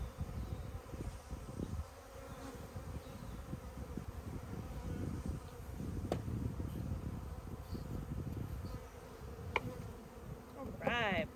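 Honeybees from a newly installed package buzz steadily around a new backyard hive, a dense, continuous hum close to the microphone with a few brief louder passes near the end.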